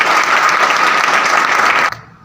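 A large audience claps loudly at a motivational direct-selling seminar, a dense, close roar of applause that holds steady and then cuts off abruptly near the end, leaving a brief fading tail.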